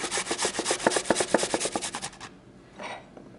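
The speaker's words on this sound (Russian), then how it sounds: "у меня 90 грамм чеснока, и я его захотела потереть на терке." Garlic, about 90 grams of it, is rubbed against a kitchen grater in quick rhythmic strokes for around two seconds, loud and close, then stops.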